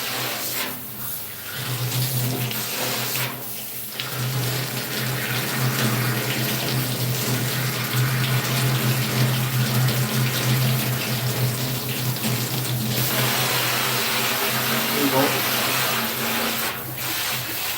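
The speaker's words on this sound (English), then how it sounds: "Or I can hold the water jet and move my tongue" A handheld water jet sprays steadily against a tongue during oral rinsing, giving a continuous hissing rush with a low pump hum that shifts slightly in tone, close and alone without talk.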